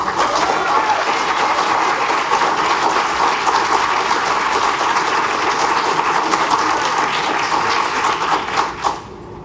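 Sustained audience applause fills a council meeting room, a dense steady clatter of many hands clapping from a crowd, holding level before tapering off with a final few claps near the end.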